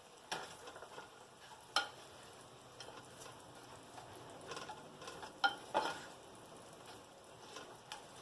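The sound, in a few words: stirring hamburger meat frying in a pan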